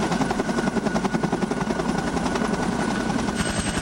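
A helicopter hovers overhead during Marine HRST rope training, its rotor making a loud, steady, rapid thudding chop that fills the air without pause.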